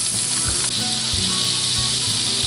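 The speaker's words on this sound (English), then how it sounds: "now we're going to return the mushrooms and onions back to the pan" Mushrooms and onions sizzle steadily and loudly as they go back into a hot pan for steak gravy, a dense continuous frying hiss with soft stirring bumps and no talk.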